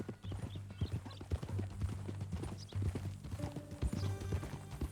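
Horse hooves clip-clop at a steady walking pace in Red Dead Redemption 2, up close, with a low droning tone underneath and a few faint clattering sounds.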